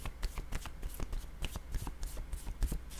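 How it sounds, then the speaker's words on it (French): Playing cards are handled on a table: a quick series of close, crisp papery slaps, riffles and taps in an irregular rhythm, with no talking. "Je vais déposer une carte ici"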